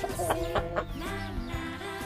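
Chickens on a rural farm cluck in short repeated bursts while pecking at morning feed, close and moderately loud with a low background rumble.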